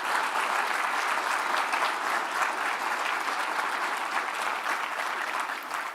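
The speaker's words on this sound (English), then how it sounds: "And I want you to clap really loud for that effort" Loud, sustained audience applause for firefighters at a city address, a dense wash of clapping that stays even for several seconds with no talk over it.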